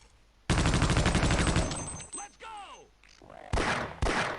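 Rapid bursts of automatic gunfire from enemies in the video game Half-Life: Opposing Force, loud and close, dense at first, then broken by alien warbling sounds and two more short bursts near the end.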